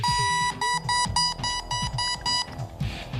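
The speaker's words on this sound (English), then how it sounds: "I've never tried it blindfolded with a softball that beeps" Repeated electronic beeping from a beeping softball in short regular bursts, high-pitched and insistent, over a backdrop of scuffling and movement.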